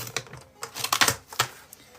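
Paper cut for a bullet journal, giving a run of short, crisp snips and scrapes up close, uneven in rhythm, with a brief pause midway and a last faint tick at the end.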